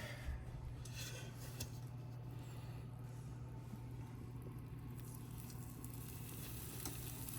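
Jalapeño cheddar cornbread batter sizzles and crackles steadily in a hot cast iron skillet, a faint continuous frying hiss with small pops.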